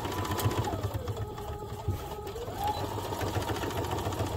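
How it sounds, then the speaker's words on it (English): A sewing machine runs steadily, stitching elastic onto fabric skate guards, its fast even motor hum and needle chatter close and continuous. "I'm just going to do it on the this side of the seam allowance, not on the inside. So I'll just do that, and I'm going to"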